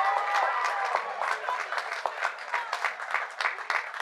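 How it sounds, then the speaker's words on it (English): A high school graduation crowd applauds a senior choir, brisk clapping with scattered whoops early on, then thinning into a patchier, fading patter of hands. "How about a round of applause for our senior choir and Benjamin Barringer?"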